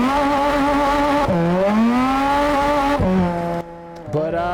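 A car engine in the drift-racing video game Japanese Drift Master hums with a strong, steady tone that sags and recovers several times, briefly dropping near the end, and plays on its own without talk.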